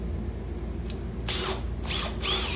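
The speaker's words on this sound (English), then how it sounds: "I will just grab this guy to drill through from the back side." A power drill bores through a wooden post bottom during a repair, its motor buzzing steadily with several short louder bursts as the bit bites in, close and without talk.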